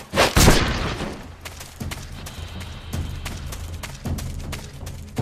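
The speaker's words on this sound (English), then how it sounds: "No one heard the gunshot." A single loud gunshot from the stealth video game Metal Gear Solid 3 cracks near the start, followed by softer in-game ambience with scattered clicks and thumps.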